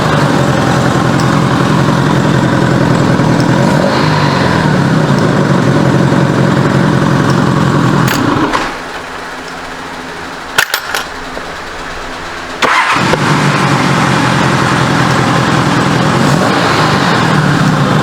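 A 1985 Honda Goldwing GL1200 motorcycle engine idles after a carburetor swap, a loud, steady low rumble that cuts out partway through, leaving a few sharp clicks before the idle returns just as loud.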